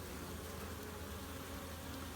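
Bees crowding in and out of hive entrances on an early spring day, a steady dense buzzing hum that holds evenly throughout, close and continuous with no voices.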